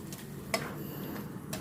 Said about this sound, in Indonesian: Kembali saya aduk-aduk supaya semua bumbu tercampur rata